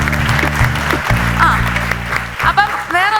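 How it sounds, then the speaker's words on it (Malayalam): An audience at a stand-up comedy show applauds in short bursts, with a voice talking over the clapping and music playing beneath. "കൈയടിക്കൂ ഗൈസ്."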